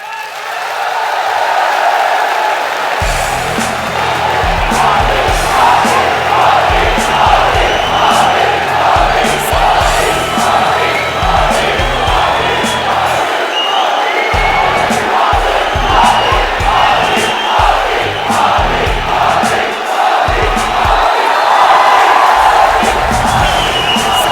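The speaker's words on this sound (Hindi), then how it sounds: "अगर आप नरेंद्र मोदी की बातों पर विश्वास करते हैं तो हाथ उठाकर ताली बजाकर समर्थन करें।" A large political rally crowd cheers, whoops and claps loudly and continuously in support, a dense roar with chanting rhythm throughout.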